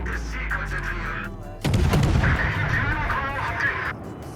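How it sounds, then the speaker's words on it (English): Naval guns of the destroyer Asashio fire a salvo in World of Warships, a sudden loud booming blast midway that rolls into a sustained rumble beneath steady game ambience. "So I need to open fire on this guy at this point."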